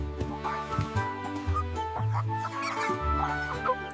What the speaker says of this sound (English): Rocky the rooster calls everyone to the party